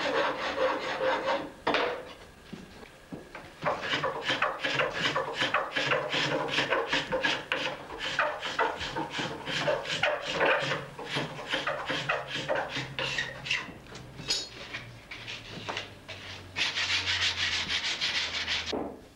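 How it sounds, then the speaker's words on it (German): Narrow edge of a wooden saddle-frame bow being smoothed with a plane, fine rasp and card scraper: rhythmic back-and-forth rasping strokes, close and continuous, with brief pauses between runs of strokes and no speech. "Die Schmalseite des Bügels wird mit Hobel, Feinraspel und Ziehklinge verputzt."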